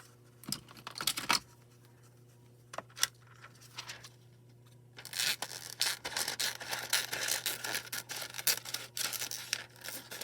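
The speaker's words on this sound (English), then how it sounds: "We're going to cut a little piece of this." Scissors snipping through a small piece of Shamrock Envy craft foil with a thicker liner, a few sparse crisp cuts at first, then a dense run of rapid crackling, rustling cuts up close.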